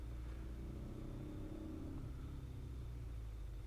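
Traffic in central Bangkok, Thailand, near Sukhumvit Road, forms a constant low rumble of nearby vehicle engines with occasional swells, with no talking.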